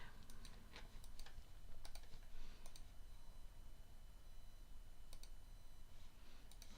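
Computer keyboard keystrokes for shortcuts during digital caricature drawing, heard as sparse, faint clicks and taps in small clusters over a quiet, hissy background.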